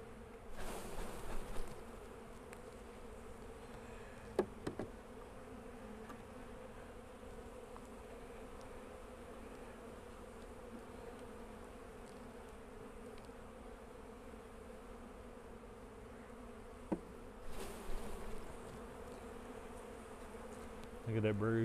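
Honey bees hum in a steady, faint drone around an opened hive throughout, with a few brief handling clicks and bumps near the start and end.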